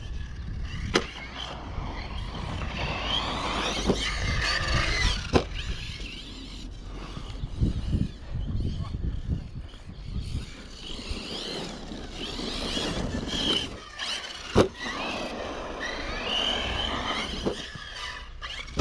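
A Hobao Skater RC car drives with a steady whirring motor and rolling wheel noise, with a gentle brake tap and a few short sharp knocks over continuous broadband hiss, fairly near and without speech.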